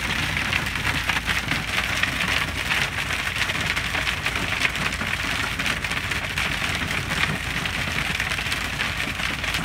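Heavy hail pelts a road in a dense, steady hiss of countless impacts, loud and continuous throughout with no voices.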